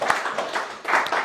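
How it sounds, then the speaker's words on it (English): Applause at a boxing press conference for Harry Coe, a short burst of scattered hand clapping from a small gathering, fairly close and uneven. "round of applause for Harry Coe versus Mark Ray"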